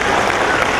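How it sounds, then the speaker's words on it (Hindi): An audience at an outdoor Sawan bhajan program gives a burst of dense, loud applause that fills the whole moment without a break. "मैं चाहूंगा एक बार जोरदार ताली से उनका"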